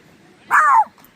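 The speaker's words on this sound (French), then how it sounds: "Oh punaise, un gros chien." A large dog gives a single short bark or yelp at a campsite, close and fairly loud, standing alone against quiet background.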